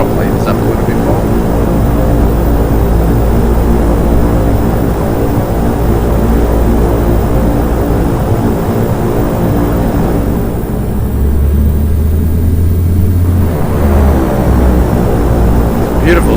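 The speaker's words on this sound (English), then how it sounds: "Beautiful sounding engines." Twin turboprop engines of a Carenado B1900D in the X-Plane 10 flight simulator, a loud continuous droning hum with steady low tones that dips briefly and swells again near the end.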